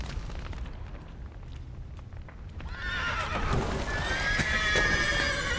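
Panicked horses neigh inside a burning stable in The Witcher 3. A crackling, rumbling low roar comes first, then the shrill whinnies break in loudly and stay on top of the fire noise.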